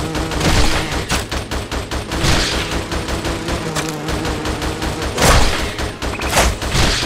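Rapid gunfire in the Xbox 360 shooter Attack Of The Movies 3D, with dense, loud bursts of shots continuing without a break throughout.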